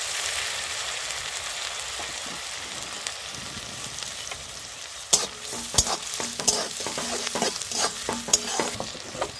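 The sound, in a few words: onion paste and chopped onion frying in oil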